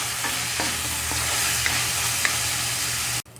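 Pork frying in hot, peppered oil for ginataang langka, giving a loud continuous sizzle close up with a few light scrapes of stirring, then cutting off abruptly at the end.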